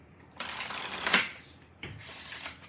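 Oracle cards being shuffled and handled, a papery riffling rush in two bursts with a short pause between, close and fairly soft, with no talking.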